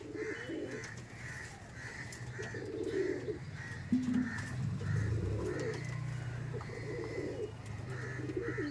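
Bangladeshi Teddy pigeons, a male and a female, coo in repeated soft low phrases at close range, with a few brief chirps and light background noise, no voices.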